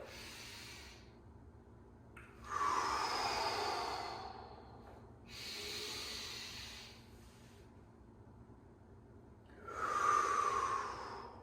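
Slow, deep breaths during an exercise movement: three long, loud airy exhalations spaced a few seconds apart, with quieter inhales between, close to the microphone and with no talking.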